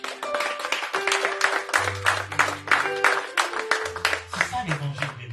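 A church congregation claps in rhythm to praise the Lord during a prophetic service, steady clapping mixed with music tones and a preacher's voice speaking over it.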